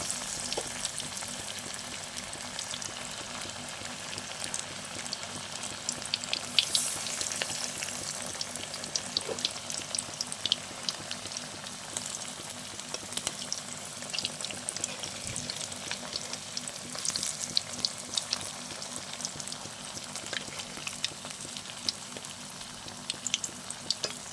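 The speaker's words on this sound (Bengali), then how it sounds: "তেলটা গরম হয়ে গেলে এবার আমি একে একে মাছের চপগুলোকে ছেড়ে দেবো তেলের মধ্যে।" Fish chops deep-fry in hot oil over a medium gas flame, a continuous close bright sizzle with occasional crackles and small pops, steady for a long stretch without talk.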